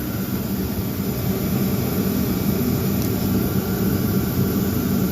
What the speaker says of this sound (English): Well, okay, yeah, oh good, this motor turns.